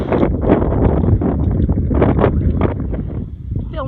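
Strong wind on a high Pacific Crest Trail section buffeting the microphone, a steady low roar and rumble with gusty surges throughout, close and loud.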